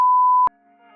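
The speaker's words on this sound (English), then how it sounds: "You can leave a message after the beep and I'll call you back." A single electronic voicemail beep, a steady clean tone held for about half a second, then cut off sharply, leaving near silence with a faint trailing hum.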